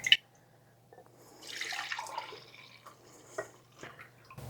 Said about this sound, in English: And now we need to fill it up with water.